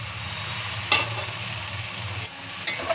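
Fried potatoes and boiled figs sizzling in a pan for a Bengali fig curry, a steady bright sizzle with a couple of sharp clinks from stirring.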